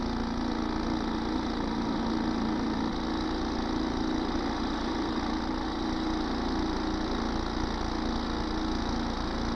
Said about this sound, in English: another formation of drilling rigs clatters away, each with its own attendant, like giant mosquitoes fastened to the rock